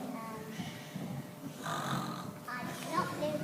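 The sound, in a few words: child snoring in a Christmas play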